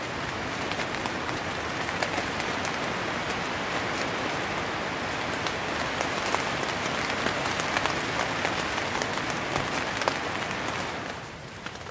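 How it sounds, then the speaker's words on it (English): Steady rain patters on a tent at night on the stormy Maine coast, a dense, even hiss of countless drops close overhead that holds throughout and eases slightly at the very end. "It's almost 6 o'clock, and it's started raining a little bit. I think you can hear it, maybe."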